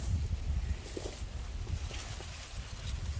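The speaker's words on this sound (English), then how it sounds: "The wind's pretty whooping them right now" Steady wind roars outdoors in a chicken yard, a constant low rumble of gusts buffeting the microphone.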